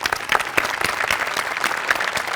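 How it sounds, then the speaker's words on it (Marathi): Audience applause at a Marathi comedy show, many hands clapping in a lively, uneven burst with a few sharper peaks, sustained for a couple of seconds. "तुमच्या सगळ्यांसाठी एकदा टाळ्या."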